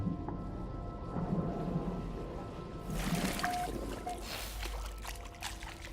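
Water and rain ambience in No Man's Sky: a soft, steady wash of rainfall with low rumbling underneath, swelling into a brighter, heavier patter of drops partway through. The sound stays fairly quiet and continuous throughout.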